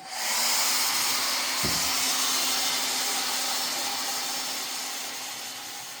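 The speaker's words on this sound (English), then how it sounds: "But here we go with the hairdryer." A steady, loud blowing whoosh of a hair dryer runs throughout, with a brief low thump near the start and no talking.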